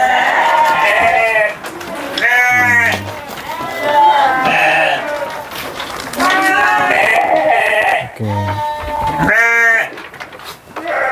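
Sheep kept on a farm where complete livestock feed is made bleat loudly and close by, with several long, wavering calls coming in bursts and overlapping across the stretch.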